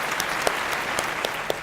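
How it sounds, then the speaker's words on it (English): Steady applause from an audience at a medical achievers award ceremony, a dense even patter of many hands clapping with a few sharper claps standing out. "Please give a round of applause"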